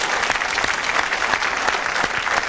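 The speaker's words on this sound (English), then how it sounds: "could we please now have a round of applause for the suspects?" Applause in a 1970s British whodunnit game show set in a stately house, a studio audience clapping steadily and fairly loudly with no voices over it.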